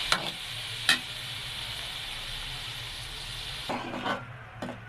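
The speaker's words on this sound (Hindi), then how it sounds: "दस मिनट तक मसाला और भूनेंगे।" Spiced masala for dal stirred and frying in a pan, a steady sizzle at close range with a few sharp scraping strokes from stirring, no voices.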